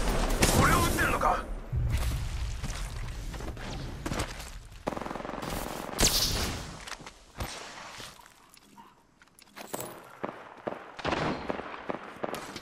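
Apex Legends firefight with bursts of automatic gunfire and single shots, loud at first then thinning into scattered, spaced cracks, with footsteps and voices in between.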